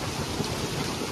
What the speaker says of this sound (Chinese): 这么大的冰雹